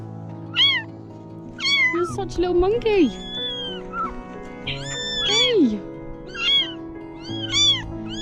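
Several roadside kittens meow repeatedly in high, insistent cries, close by, near Zagreb or Karlovac, Croatia, while a person talks over them.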